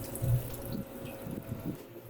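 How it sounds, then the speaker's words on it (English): Filtered water runs and splashes softly into a large pot of beef pho broth for a couple of seconds, faint and close, with no voices. "I'm going to add just a touch more water."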